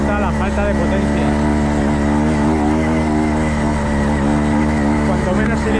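A trial motorcycle engine labours steadily up a mountain climb near 2,000 metres, a loud close drone that wavers slightly in pitch as it strains under load.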